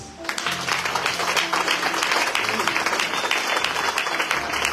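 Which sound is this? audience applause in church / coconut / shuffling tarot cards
audience applause in church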